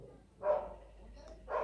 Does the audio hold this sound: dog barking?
yes